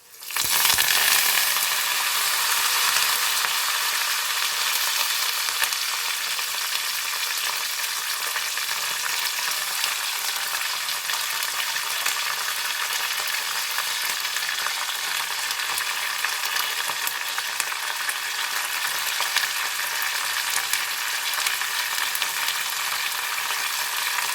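Curry leaves and dried red chillies frying in hot oil, a loud, close, unbroken hissing sizzle that flares up at the start and then holds steady for the whole stretch, with no voices.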